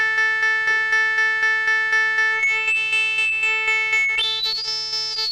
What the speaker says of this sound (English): So you get these cool overtone effects, but you get that jittery, buzzy quality.